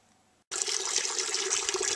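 Fuel gushes from the tank of a 1987 Honda Super Magna 700 motorcycle being drained, starting abruptly after a moment of quiet and pouring as a steady, splashy liquid rush.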